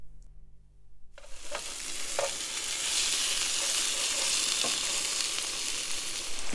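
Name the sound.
steak searing in a pan at camp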